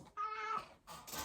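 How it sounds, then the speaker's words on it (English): A cat meows close by, a drawn-out tonal cry followed by a shorter, rougher second call, with no talking over it. "Cat."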